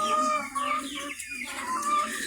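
Chickens cluck and call nearby on a farm in a busy overlapping chatter, several birds at once, moderately loud.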